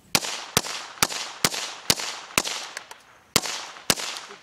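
Eight sharp .22 rifle shots fired at a laptop, spaced roughly half a second apart, each a loud close crack with a short decaying tail, with two fainter pops in the middle of the string.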